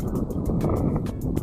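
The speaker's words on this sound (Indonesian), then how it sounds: "Angin kencang sekali" Strong wind buffets the microphone while fishing from a boat, a steady low rumbling roar with gusty swells throughout, no voices.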